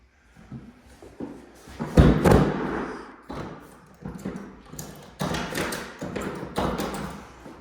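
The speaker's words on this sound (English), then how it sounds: "This outside door barely closes." Exterior door of a house that barely closes, thudding heavily as it is pushed shut, followed by a series of softer knocks and bumps as it is worked against the frame, close by with no talk.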